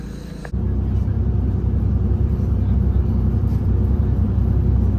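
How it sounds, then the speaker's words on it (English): Inside a moving coach bus, a dense low engine and road rumble holds steady after a brief quieter moment at the very start, loud and continuous with no clear speech. "So I'm on the coach now, heading on to my first transfer."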